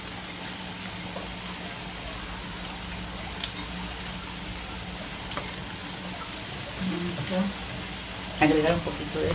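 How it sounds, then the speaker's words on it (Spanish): Liver and onions frying in a pan for Cuban-style bistec encebollado, a steady close sizzle and crackle running throughout, with a few brief faint voice sounds near the end. "Vamos a dejar que se sofría."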